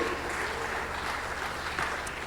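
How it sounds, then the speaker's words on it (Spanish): Soft, steady clapping from a church congregation, a continuous diffuse patter of many hands heard at a distance and fairly faint throughout. "Ese aplauso tiene que estar en serio, porque es para la gloria y la honra de nuestro Dios"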